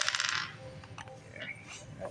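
Chess pieces tap and clack onto a board during setup for a beginner's game, a few light wooden knocks and a brief rattle close by, fairly quiet.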